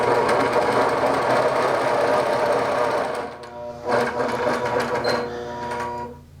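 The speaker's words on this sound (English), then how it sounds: "Bring my bobbin thread to the top and hit sew." Sewing machine stitching a tree wall-hanging, a loud rapid mechanical whir that runs steadily, briefly dips, then resumes with clicking before slowing to a stop.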